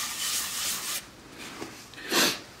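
A turned wooden bowl being polished with Yorkshire Grit abrasive paste on a lathe, a soft close rubbing hiss that swells in a few strokes, fairly quiet and without talk.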